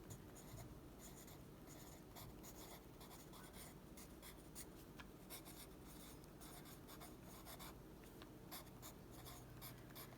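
Pencil scratching on a journal page as someone copies text, a continuous faint rasping scribble with quick strokes, close up and quiet, no talking.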